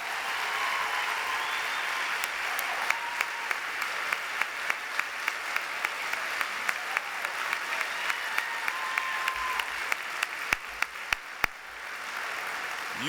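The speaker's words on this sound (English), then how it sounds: "I'd like to give my able-bodied assistant, Miss Mariah Sullivan, a round of applause" Applause from an audience at an evening alumni hall of fame ceremony, a sustained even wash of clapping with a few louder individual claps standing out, slowly fading toward the end.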